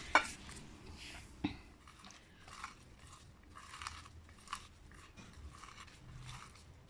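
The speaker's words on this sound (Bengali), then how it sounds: "খুব ভালো করে পেঁয়াজ আর শুকনো মরিচ একসাথে মিশিয়ে নিতে হবে" Raw onion and dried chillies are squeezed and mixed by hand for bharta, giving soft, irregular squelching and crackling with occasional sharper crunches, close and quiet with no talking.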